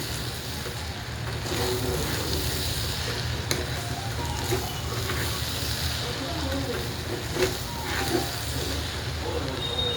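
Spices with salt and turmeric are stirred in a frying pan for a vegetable masala rice, a steady sizzle with scraping spoon strokes and occasional clinks running throughout under a low kitchen hum.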